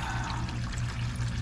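Thin motor oil draining fast from a 2022 Toyota Tacoma during its first oil change, a continuous splashing pour like running water, close and steady.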